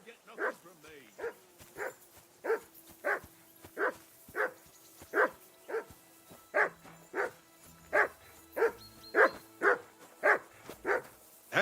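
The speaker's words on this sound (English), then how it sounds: "Whistle at that mutt of yours to stop barking!" A dog in the video game Kingdom Come: Deliverance II barks in a steady rhythmic series of about twenty loud woofs, close by, with a few voices speaking faintly underneath.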